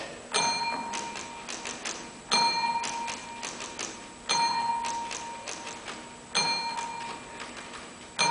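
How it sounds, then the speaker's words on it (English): Warning bells ring out in repeated strikes about every two seconds, each clang leaving a sustained metallic tone that hangs until the next one. "why are the bells ringing?"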